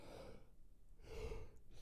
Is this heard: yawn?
yes